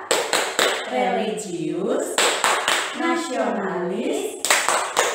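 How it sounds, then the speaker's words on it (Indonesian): A class of children does the 'tepuk BPK' clap routine, sharp group hand claps landing in rhythmic bursts between loud chanted words. "kita tepuk BPK bersama-sama ya."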